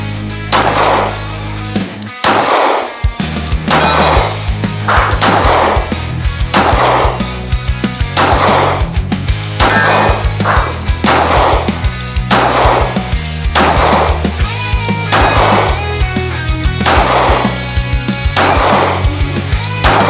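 A Glock 19 pistol fitted with a Sabre Dagger slide is fired through 15-round magazines. Loud shots ring out in a steady, evenly spaced rhythm, with a brief pause early on for a reload.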